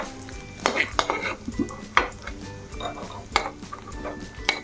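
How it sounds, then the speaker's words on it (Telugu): Fried mixture for Bombay Karachi halwa being turned out of a pan into a bowl, with metal utensils clanking and scraping in a rapid, uneven series of close, sharp knocks and some faint sizzle. "ఇప్పుడు ఇలా వేగింది కదా, ఇదంతా ఒక గిన్నెలోకి టర్న్ చేసేసుకుందాం."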